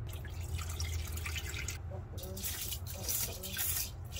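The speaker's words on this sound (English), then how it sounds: "You gotta rinse this rice multiple times to get rid of this extra starch here." Rice being rinsed in water, heard as a continuous close, soft sloshing and trickling wash with faint splashes throughout, under a low background hiss.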